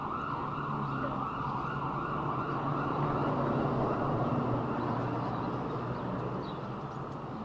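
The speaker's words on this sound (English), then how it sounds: "Let's wait for the siren to go down." A loud siren wails steadily and continuously close by, its tone rising and falling over a constant engine-like rumble, with no speech.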